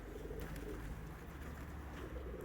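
Racing pigeons, German Vienna tumblers, coo softly and steadily against a constant outdoor noise bed, fairly faint.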